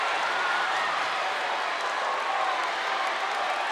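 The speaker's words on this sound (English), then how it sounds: "And now the Meadowcreek crowd loving it." A home crowd cheers and applauds at a Meadowcreek versus Norcross high school basketball rivalry game, a dense, steady roar of clapping and shouting that holds for the whole stretch with no single voice standing out.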